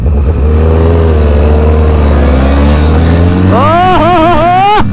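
A Suzuki Hayabusa motorcycle racing and accelerating hard, its loud engine climbing in pitch through rapid gear changes, close to the listener, with a brief spoken exclamation.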